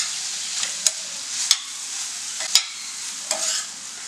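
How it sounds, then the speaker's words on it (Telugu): Sliced onion and beetroot sizzling in a pan for a beetroot coconut fry, with a steady hiss of frying broken by a few sharp scrapes and clinks as a spoon stirs it, close up and with no voices. "ఇప్పుడు ఇదంతా బాగా కలిపేసుకుని మనకు ఉల్లిపాయ కొద్దిగా వేగే వరకు మనం దీన్ని కుక్ చేసుకోవాలి."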